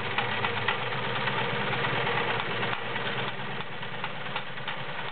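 A Kenmore 1341 convertible flat bed/free arm sewing machine running a straight stitch, giving a steady, continuous motor whir with a fast mechanical chatter, close and even throughout with no pauses.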